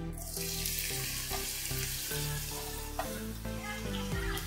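Onions frying in ghee for Hyderabadi green chicken make a steady, bright sizzle that carries throughout, partly masked by loud melodic background music.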